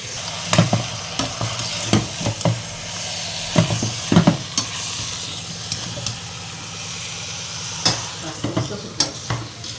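Mutton frying in a home kitchen pan: a continuous close sizzle broken by a steady series of spatula scrapes and clatters against the metal.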